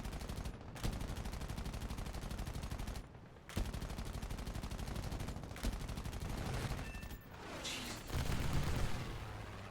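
A plane's heavy gun in War Thunder fires long rapid bursts, loud and continuous, broken by a few short pauses between volleys.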